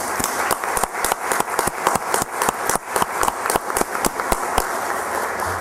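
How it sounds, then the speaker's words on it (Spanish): Applause at a municipal council session, a small group clapping steadily with distinct individual claps audible in a fairly close, uneven rhythm for several seconds, with no talk over it. "Voy a pedir un fuerte aplauso para los funcionarios involucrados en este tema."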